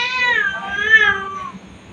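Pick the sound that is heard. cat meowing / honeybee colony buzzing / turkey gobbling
cat meowing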